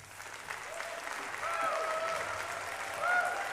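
Applause from an audience at a town hall election forum, a soft, distant wash of clapping with a faint murmur of voices underneath.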